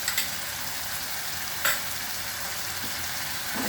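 Potatoes and yogurt are sautéed in a pan, filling the scene with a constant moderate sizzle and a couple of brief clinks from stirring.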